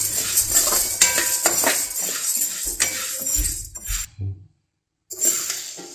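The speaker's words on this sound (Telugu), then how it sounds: "ఇప్పుడు మినపగుళ్ళు వేసుకుందాం. ఇవి కూడా మనం లో ఫ్లేమ్లోనే ఫ్రై చేసుకోవాలి." Urad dal fried and stirred on low flame in a pan while making Guntur-style idli podi, giving steady clinks and scrapes of a metal spoon against the pan that stop briefly near the end, then resume.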